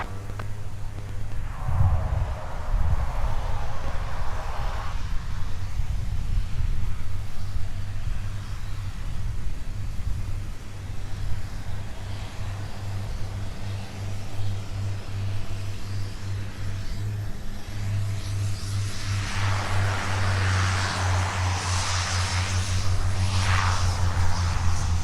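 A Delta jet takes off from runway 30 left at Minneapolis–St. Paul on a muggy winter day, its engines a steady, loud roar with a low drone throughout and a brighter rushing swell building near the end.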